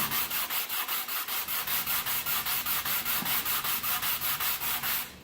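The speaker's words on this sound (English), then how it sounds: "I'm going to continue to sand a little more, not much." Sandpaper rubs back and forth over the comb of a Suzuki Sirius 14 knock-off harmonica in quick, even strokes, a close rhythmic scratchy swish with no speech.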